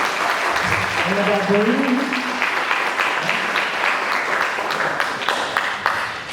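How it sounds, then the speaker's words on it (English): Audience applause at a school pride ceremony, steady clapping from a room full of people with a few voices talking and calling out over it. "Let's give them a round of applause."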